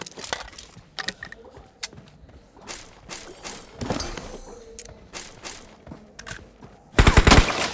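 Gunfire in a battle royale video game on the Livik map, with scattered shots and short bursts through the clip and a loud, dense burst of fire near the end.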